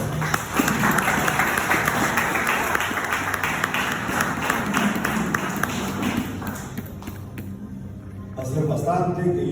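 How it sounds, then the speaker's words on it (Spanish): A room of attendees at a book presentation breaks into sustained, dense clapping that stays loud and close for several seconds before tapering off near the end. "a quien pido también fuertes aplausos"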